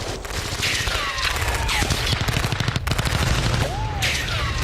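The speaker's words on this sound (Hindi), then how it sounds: "यूक्रेनी ब्रिगेड ने की ताबड़तोड़ फायरिंग" Heavy gunfire from a Ukrainian brigade in combat, with dense rapid bursts of automatic weapons fire running continuously and loudly throughout, some rounds whistling past.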